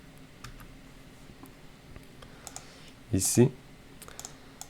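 Typing on a computer keyboard while entering code in RSLogix 500 programming software, faint scattered key clicks with a brief louder cluster in the middle, under a man's speech.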